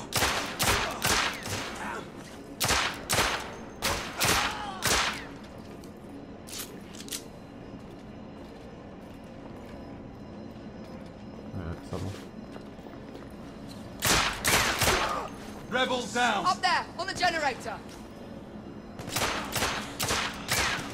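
Gunfire from the video game The Order: 1886 comes in sharp bursts of loud shots, clustered in rapid volleys separated by quieter stretches.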